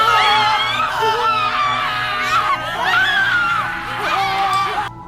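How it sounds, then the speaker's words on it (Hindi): Layered screams and wailing of many people at night in an abandoned Uttarakhand ghost village, loud and continuous with overlapping rising and falling cries. "घरों में आज भी रात को लोगों की चीखने की आवाज सुनाई देती है।"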